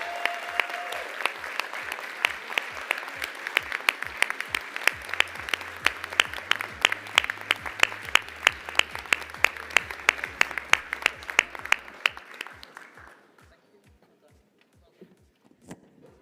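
An award ceremony audience at a startup showcase gives a loud, sustained round of applause. Claps ring out in a dense, steady rhythm for about twelve seconds, then fade to quiet.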